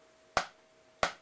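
A drumstick strikes an unmodded yellow Rock Band plastic drum pad twice, each hit a sharp, bright, close tap with a quick decay and about half a second of quiet in between.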